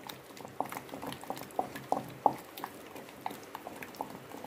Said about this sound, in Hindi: अब मैं इसमें पानी डाल दूंगी थोड़ा, एक कप कर लूंगी